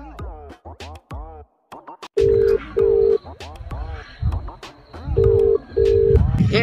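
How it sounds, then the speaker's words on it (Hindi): A voice talks in short bursts between repeated electronic ringing tones, two pairs of steady beeps like a phone ringback, fairly close. "हम उसको फोन लगाती।"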